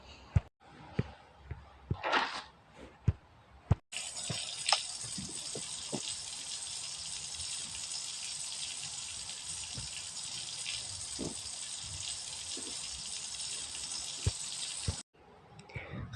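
Shower water running in a home bathroom, a steady broadband hiss that starts abruptly after some scattered knocks and clatter, holds for about eleven seconds, then cuts off sharply.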